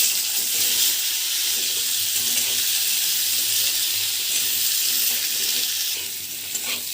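Raw jackfruit pieces fry in hot mustard oil, making a loud, continuous crackling sizzle up close, with faint stirring and the hiss easing slightly near the end.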